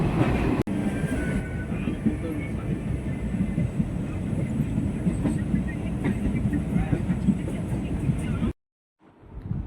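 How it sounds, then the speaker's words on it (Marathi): Konkan Railway passenger train running toward Panvel, heard from inside a crowded coach as a steady, loud rumble and rattle of wheels that cuts out abruptly just before the end. "गाडी आता पनवेलला पोचणार आहे."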